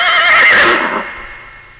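A horse gives a single loud, close whinny that rises, wavers and then trails off over under two seconds, with nothing else heard around it.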